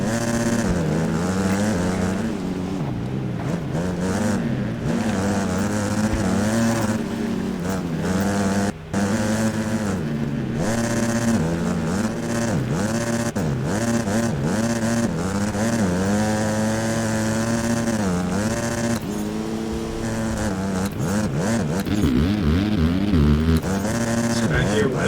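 250cc motocross bikes race a timed fast lap at a national round, their engines whining and revving without a break, the pitch climbing and dropping as riders shift and throttle through the course.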